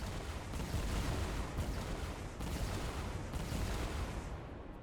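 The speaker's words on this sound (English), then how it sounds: "it will cause the bears to fire the cannon and blast the door open." Heavy, rumbling booms and blasts in Fortnite Creative as a cannon fires and blasts a door open, overlapping in quick succession, loud and dense, with explosions rolling on for several seconds.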